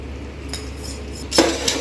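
A metal spoon clinks against a pot while turmeric powder goes into chicken biryani cooking over a medium flame: a couple of bright, brief clinks over a low background hum.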